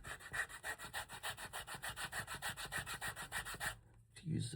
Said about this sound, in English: use the brute force of the sandpaper, basically. to make sure everything is even